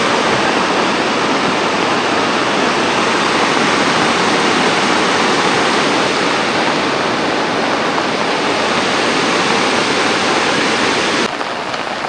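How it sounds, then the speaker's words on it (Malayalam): A mountain stream rushes loudly down a slope at Banihal in Kashmir, its water forming a dense, steady roar that holds evenly close by for the whole stretch, with no voices over it. "ഇവിടെ കണ്ട വെള്ളം കുത്തിയൊലിച്ച് ഒഴുകണ്ട"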